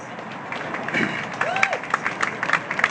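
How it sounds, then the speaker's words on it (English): A crowd at a street rally in Toronto claps for a few seconds, a steady patter of many hands heard from within the gathering, with a voice from a speaker system mixed in. "It's nice to actually get claps for that."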